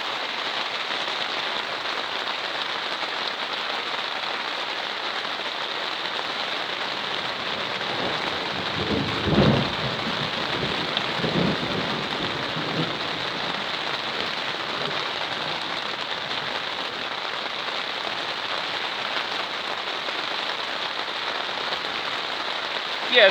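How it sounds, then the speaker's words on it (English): A thunderstorm in Essex, UK with steady heavy rain hissing on surfaces throughout and a couple of deep rumbling thunder rolls building in the middle, no voices. "going to have some thunder in a moment."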